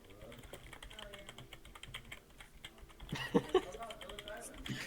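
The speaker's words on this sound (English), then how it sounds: "I hear rapid typing followed by oh." Rapid, fast clicking of keyboard typing, fairly quiet, with a brief burst of voices near the end.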